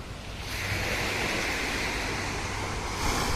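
Sea waves wash steadily onto a shore under cloudy skies, a loud continuous rushing surf mixed with wind buffeting, swelling slightly near the end, with no voices.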